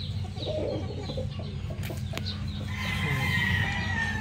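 Hens and roosters on a gamefowl farm cluck and call close by, with repeated short clucks and a drawn-out crowing call later, over a low steady background hum.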